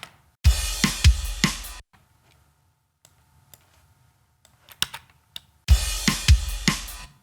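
Two bursts of a punchy kick drum pattern through a compressor with fast attack and quick release, tight, snappy hits, separated by a quiet gap with faint scattered clicks.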